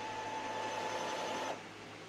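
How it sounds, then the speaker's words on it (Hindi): An Epson L3110 inkjet printer running a head-cleaning cycle gives a steady close mechanical whir with a thin sustained tone, which drops to a quieter hum near the end. "हेड क्लीनिंग फिर से शुरू है।"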